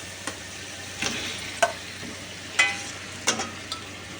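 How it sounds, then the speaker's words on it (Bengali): Chicken going into hot oil with half-fried spice masala for a home-made biryani, a quiet steady sizzle broken by several sharp clinks and scrapes of stirring, no talk. "এর মধ্যে তেল ছেড়ে এসে এবার আমি চিকেনটা দেবো।"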